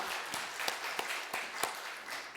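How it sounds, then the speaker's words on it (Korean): A Korean church congregation claps in praise to God, a brief, fairly quiet patter of many hands with a few sharper individual claps standing out in a loose rhythm. "하나님께 영광의 박수 돌려드리겠습니다"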